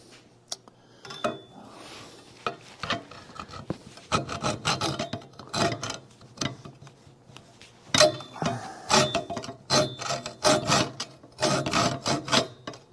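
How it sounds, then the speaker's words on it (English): A hacksaw cuts through metal parts while repairing a golf batting cage, giving uneven bursts of close, rasping back-and-forth strokes with short pauses between runs. "that's the easiest way to do it is with a hacksaw"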